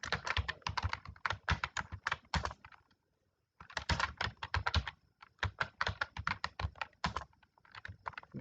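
Rapid keystrokes on a computer keyboard come in dense close bursts as an address is typed, with a brief pause of about half a second before the typing resumes, and no voices.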